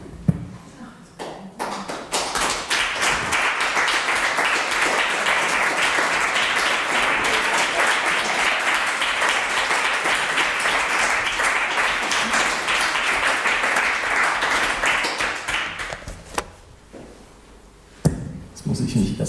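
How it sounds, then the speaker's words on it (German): Audience applause at a lively spring poetry reading, a dense steady clapping that swells quickly, holds for about fifteen seconds, then thins out into a few scattered claps. "Applaus, Applaus."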